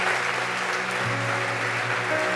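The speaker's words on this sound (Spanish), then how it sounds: "Denle un aplauso al Señor." Church congregation at a Spanish-language sermon clapping in praise, a steady wash of applause with a low hum of music or voices underneath.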